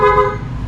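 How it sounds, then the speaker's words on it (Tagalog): A Yamaha NMAX V2 scooter horn honks once, a steady bright tone held briefly up close, then fading into engine rumble. "Busina muna."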